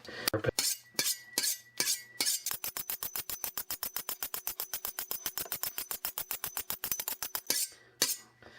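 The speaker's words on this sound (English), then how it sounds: "It's a Chinese chef's knife or a vegetable knife, and it needs to be sharpened." A thin Chinese chef's knife, or vegetable knife, is drawn quickly across a sharpener, making a long run of steady rhythmic metallic strokes. A few slower separate scrapes come before and after the fast series, all close and with nothing else heard.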